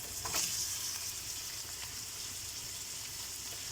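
Steady sizzling of minced meat and onions frying in a hot pan, a constant crackling hiss with a few brief clinks near the start.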